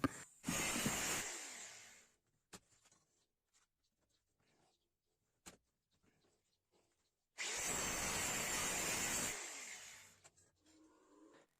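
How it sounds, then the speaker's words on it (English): An angle grinder cuts through a salvaged grinder disc in two loud bursts, each a harsh, close whine lasting a couple of seconds, separated by quiet pauses with light clicks and handling noise. "Once it's dry, we cut the disc with the angle grinder."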